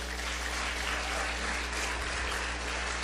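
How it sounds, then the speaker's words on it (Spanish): Congregation applause in a Spanish-language church service, a steady, fairly faint patter of clapping over a constant low hum, continuous for a few seconds. "Dele un fuerte aplauso al Señor."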